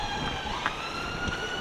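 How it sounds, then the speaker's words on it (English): An ambulance siren wails on a street during a town protest in Buxton, a steady continuous tone with traffic rumble beneath, fairly loud and close. "Wait for that ambulance."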